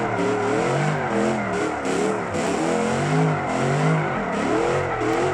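A truck in the BeamNG video game revs its oddly tuned exhaust, the engine note climbing and dropping in repeated wavering sweeps, loud and close, with faint tire squeal mixed in.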